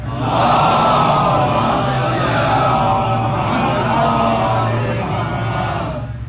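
An audience at a majlis chants the salawat slogan together, a loud, sustained roar of many voices lasting about six seconds before easing off at the end.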